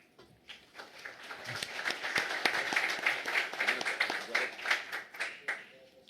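An audience at a football club press conference presenting coach Abel Braga at Internacional breaks into applause, the clapping swelling from a few hands to a steady, moderately loud round of claps.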